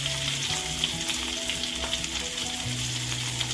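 Ingredient frying in hot oil in a pan, a steady close sizzle and crackle with faint stirring scrapes and clinks throughout, no voices.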